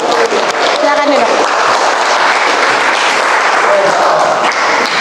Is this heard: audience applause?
yes